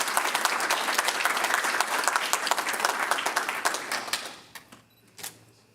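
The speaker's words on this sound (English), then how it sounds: "let's give him a round of applause" A council-meeting audience gives a round of applause for a retiring council member, brisk dense clapping that holds steady for about four seconds, then thins to a few scattered claps and fades out.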